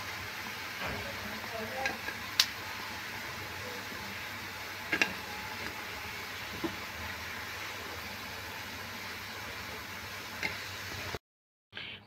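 Sesame fritters (til bora) sizzle steadily in hot oil as they are lifted out, with a few sharp utensil clicks scattered through the continuous frying hiss before it cuts off.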